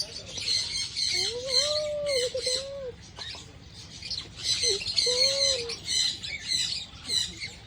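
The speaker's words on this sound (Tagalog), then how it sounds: "Bye-bye, parrot." A parrot calls with repeated harsh squawks and gliding whistle-like notes in bursts, fairly close and loud over a steady background hiss.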